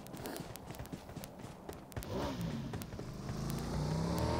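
An in-game vehicle engine in PUBG revs and rises steadily, loud and close, with scattered clicks and impacts over the top and a brief voice in the background.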